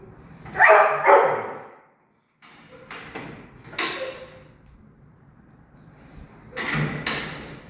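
A dog at a kennel door gives a few sharp barks in separate bursts, loud and close, with pauses and some creaking between them.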